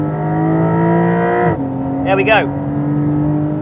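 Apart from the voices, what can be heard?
Porsche 911 Carrera GTS 992 accelerating on track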